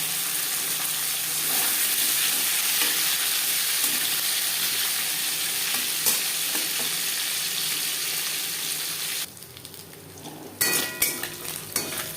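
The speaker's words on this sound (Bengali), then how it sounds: "মাছ ভেজে নেওয়া তেলে দিয়ে দেব একটা তেজপাতা, 1/2 চামচ গোটা জিরে" Whole bay leaf and cumin seeds sizzle in hot oil left from frying tangra fish, a steady close crackle with faint utensil clinks, thinning out near the end.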